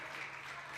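A church congregation claps together during a prayer service, a dense, steady wash of applause that fills the room without pause for under a second.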